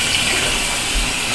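Tap water running steadily over raw chicken being washed in a home kitchen sink, a continuous close hiss of splashing water with no pauses.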